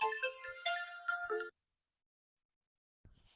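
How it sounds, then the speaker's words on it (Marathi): A mobile phone ringtone plays a bright electronic melody loudly for about a second and a half, then cuts off into silence before faint rustling. "कोण आलंय कोणाचा फोन आलं काय"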